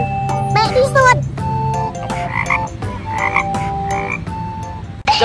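Frogs croak loudly and repeatedly in a layered chorus under a children's fable about little frogs, with a voice and jingly tones mixed in throughout.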